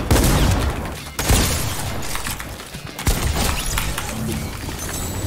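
Pump shotgun blasts in the video game Fortnite: a few sharp, loud shots scattered through dense, busy battle noise, with no talking.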